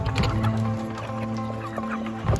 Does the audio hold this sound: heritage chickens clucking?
yes